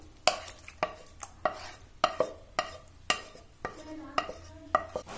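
A spoon scrapes and knocks against a metal pot while stirring moong dal khichdi in a steady rhythm, a dozen or so clattering strokes close by, with no talking.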